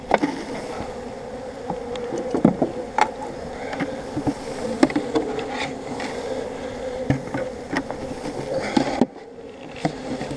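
Dense, continuous buzzing of many honeybees up close during a hive inspection, with scattered sharp clicks and knocks, ending abruptly with a quieter stretch.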